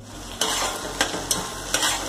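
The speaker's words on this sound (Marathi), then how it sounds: "कांदा आता थोडासा परतायला लागलेला आहे." Onion sautés in a pan for Puneri misal, a continuous close sizzle marked by four evenly spaced scrapes of a spatula.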